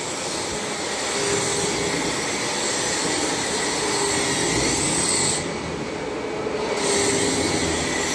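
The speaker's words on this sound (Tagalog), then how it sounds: "Malalakas yung mga vacuum ninyo, ano?" A powerful vacuum cleaner running continuously over carpet, a loud, steady broadband roar with a high whine, its pitch shifting briefly as the nozzle moves, with no talking.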